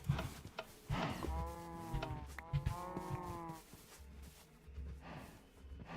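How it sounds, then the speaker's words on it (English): Cows in the Minecraft video game moo several times, drawn-out lowing calls that overlap in the middle, set over a low ambient rumble with no talking. "these cows are making way too much noise"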